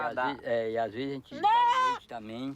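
Goats in sandy lake country bleat close by, with several wavering, drawn-out calls in quick succession, one louder and higher in the middle.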